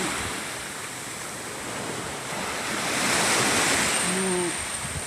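Rough sea waves ahead of a super typhoon: a dense, continuous roar of surf and wind that swells louder midway, with buffeting wind noise on the microphone and no talking.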